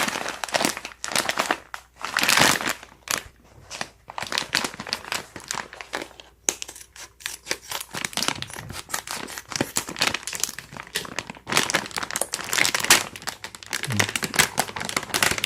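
Loud, close crinkling and rustling of a plastic bag of hamster muesli feed being pulled open, continuous with sharper tearing bursts.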